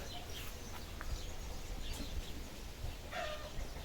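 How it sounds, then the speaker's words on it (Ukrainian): Freshly hatched starling chicks call with faint high cries in a garden, heard as a few scattered chirps over a steady outdoor background hiss. "Ви чуєте, як кричать пташенятка? Це тут шпачки. Вивелися."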